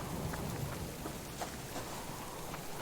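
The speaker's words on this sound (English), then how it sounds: "This thunderstorm is extremely loud and I'm trying not to talk too loud." A thunderstorm with steady heavy rain drums on surfaces, a constant wash of noise with faint rumbles of thunder, no voices.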